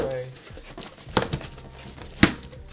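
Packaging from a black Adidas sneaker box crinkles and rustles softly, with two sharper crackles standing out amid quieter handling noise close by.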